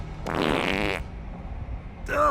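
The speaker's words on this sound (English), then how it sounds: "Or did you hear my fart?" A loud, buzzy fart lasting under a second breaks out over people talking in a casual group chat, followed by a short pause before voices resume.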